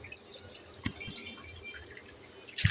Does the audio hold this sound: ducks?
no